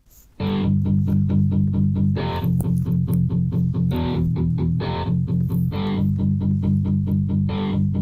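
Electric-guitar style backing pattern named Shameful, played by an Enya Cyber-G smart hybrid guitar: loud, steady rhythmic strummed chords in repeating bursts with a sustained low bass layer, running alone without talk.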